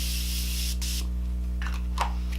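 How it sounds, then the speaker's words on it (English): Short hissing bursts of Morphe Continuous Setting Spray misted onto a face, several quick sprays over a steady low electrical hum. "This is the Morphe Continuous Setting Spray"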